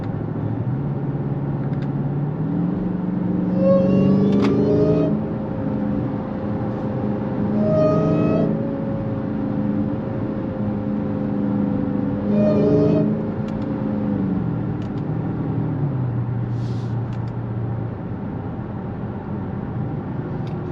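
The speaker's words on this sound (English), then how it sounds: "If I give it a little gas, you do hear that supercharger" Inside a 2021 Dodge Charger Hellcat, engine drone rises in short bursts under throttle as a supercharger whine climbs over the cabin rumble, then eases back to steady cruising.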